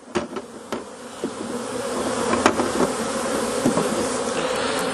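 Honeybees just knocked off a hive frame into a bucket set up a dense, steady buzzing swarm drone, broken at the start by a few sharp knocks.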